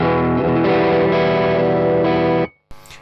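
Overdriven guitar through an Archer Centaur clone pedal, a dense, harmonically rich sustained chord with a few restrikes, loud and close, then cut off abruptly into a brief scrape.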